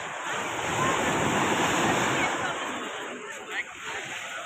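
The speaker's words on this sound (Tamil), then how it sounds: "இது என்ன கடல்? அரபிக்கடலா? அரபிக்கடல் தானே?" Arabian Sea surf rolls and washes ashore on a Goa beach, a broad roaring hiss that swells then eases, with wind buffeting the microphone.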